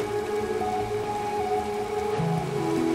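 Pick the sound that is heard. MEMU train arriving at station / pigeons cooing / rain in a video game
rain in a video game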